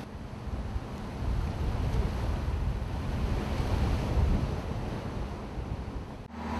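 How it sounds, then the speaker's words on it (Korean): Fishing boat for set-net fishing surging over waves, a dense rushing wash of water and wind swelling and easing, loud and close. "넘실대는 파도를 넘어 정치망 어업선이 달려나간다."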